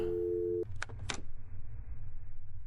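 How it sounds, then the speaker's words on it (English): In a video game, a telephone dial tone hums steadily for about half a second, cuts off, then two short bursts of beeping tone follow before quiet. "Before I can hear an answer, the tone dial swells forth"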